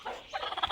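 A short turkey gobble, a quick rattling burst of bird calls at close range in a poultry coop.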